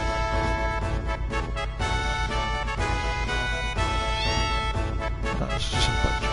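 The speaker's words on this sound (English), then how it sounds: "That's just a bunch of cats." Several cats meow repeatedly inside a video game, their calls rising over loud, continuous game music that fills the whole passage.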